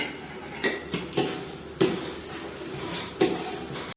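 A spoon scrapes and clinks against a metal pot as sugar is stirred into a cooking gravy, several sharp knocks spaced irregularly over a low background murmur.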